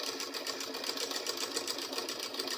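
A sewing machine stitches fabric for a pleated V-shaped turban cap, running in a fast, steady whir of rapid needle strokes with a regular pulsing rhythm, close and alone with no talking.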